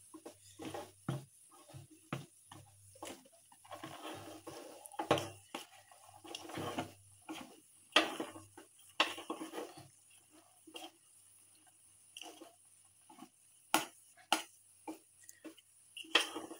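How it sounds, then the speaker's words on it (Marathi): A butter knife scrapes and clinks irregularly against a pan while modak dough is mixed over low heat, producing quiet close taps and scrapes with pauses between strokes. "मी बटर नाईफ घेतली आहे, त्याच्याने पूर्ण असं पीठ मस्त मिक्स करून घ्यायचे"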